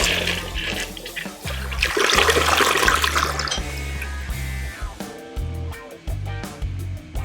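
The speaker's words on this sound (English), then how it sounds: "make sure we do a nice full flush" A household toilet flushes fully after being unclogged, water rushing loudly into the bowl and draining, then refilling with gurgles and trickles, heard up close with no voices.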